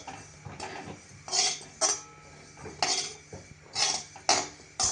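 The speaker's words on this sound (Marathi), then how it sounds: "खोबरं असं हलवून हलवून भाजायचं, एकाच जागी राहिलं तर ते पटकन जळून जातं." Grated coconut stirred while dry-roasting in a pan for Maharashtrian goda masala, with repeated metallic scrapes and clinks of a spoon against the pan in irregular bursts, close and moderately loud, no talking.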